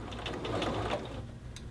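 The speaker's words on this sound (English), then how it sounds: "And so you drop your needle right back at that intersection again, where that terminated seam was. Sew forward, backstitch." A sewing machine stitches forward and backstitches across a men's shirt cuff. It makes a brief, fast, even mechanical whirr with rapid needle ticks at close range.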